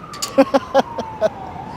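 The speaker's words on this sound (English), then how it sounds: "You got sirens everywhere." A distant siren holds a steady, slightly falling wail, partly masked by a few louder, sharp nearby bursts of street noise.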